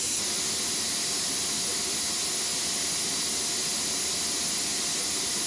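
Twin-engine F-4 Phantom supersonic jet roaring as a steady, loud broadband hiss and rumble with no pauses, heard alone without any voices.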